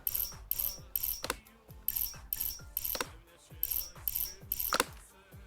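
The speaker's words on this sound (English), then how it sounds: "Start tightening these bolts in." A ratchet wrench tightening bolts during car repair, with rapid repeated clicking bursts in a steady back-and-forth rhythm, close and fairly loud.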